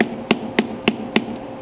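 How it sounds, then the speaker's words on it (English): A small Eastwood dead blow hammer taps a glass seal into its groove on a 1939 Ford hot rod, four sharp, evenly spaced knocks, close and clear, over a faint background hum. "Little Eastwood dead blow hammer is actually coming in kind of handy"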